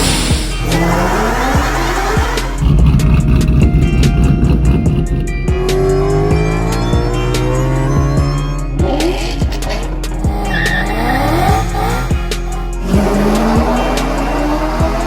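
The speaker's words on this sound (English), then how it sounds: "we're going for the first couple of drives and tuning with the big turbo Toyota Supra here" Big-turbo Toyota Supra on its first drives, the engine revving hard through rising pulls with tire squeal and turbo whoosh between shifts, loud and close throughout.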